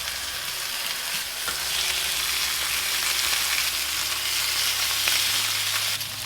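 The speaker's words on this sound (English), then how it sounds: "I have the pan, it's a moderate heat with a thin coating of olive oil." Beef tripe frying in a thin coating of olive oil in a pan over moderate heat, giving a loud, steady, close-up sizzle and crackle with no talk.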